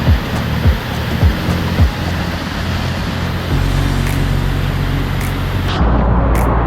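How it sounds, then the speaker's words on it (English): Heavy rushing water from a waterfall in the Bali mountains during heavy rain, a steady loud broadband roar with a few brief louder surges early on. "I found the waterfall!"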